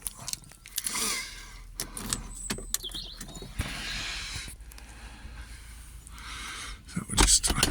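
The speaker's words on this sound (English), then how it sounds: "Should we put the roof down?" The electric convertible roof of a 1999 Porsche Boxster 986 lowers with a motor whirr and mechanical clunks, close by, mixed with handling noises and someone talking intermittently.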